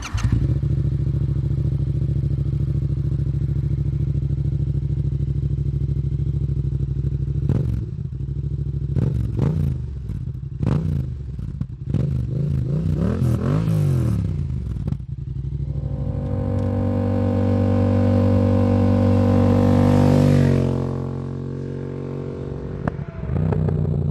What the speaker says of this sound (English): Exhaust pops.